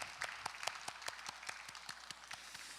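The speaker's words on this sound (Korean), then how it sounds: "하나님께 영광의 박수 올리겠습니다." A church youth congregation gives a short round of applause after a worship song, sparse distinct claps ringing out in a quiet hall.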